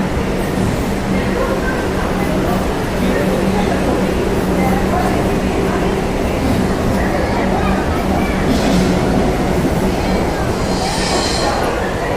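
A metro train rumbles loudly and continuously from nearby, heard from inside the train, with a steady low drone and rattling throughout, while voices murmur faintly underneath.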